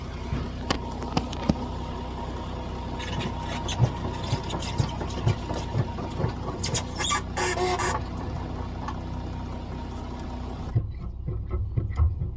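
A crank lowers the spare tire from beneath a Land Rover LR4 with a continuous grinding, ratcheting rattle. It is close and fairly loud throughout, with scattered clicks and a scraping burst near the middle before it drops away at the end.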